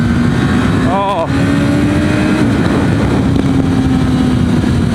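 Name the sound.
Suzuki SRAD motorcycle being ridden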